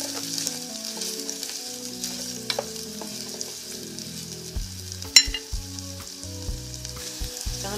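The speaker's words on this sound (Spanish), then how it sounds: "Un poco aceite caliente, acitronamos la cebolla" Onion and garlic fry in hot oil with a soft, close sizzle, punctuated by scraping stirs and a sharp utensil knock near the middle, no voices.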